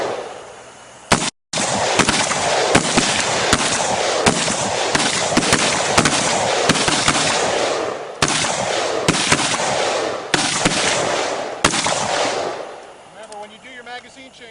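AR-15 rifles firing during an outdoor shooting challenge: dense, rapid, loud cracks of gunfire in long strings, overlapping shots with brief gaps, before the shooting tapers off into quieter background noise.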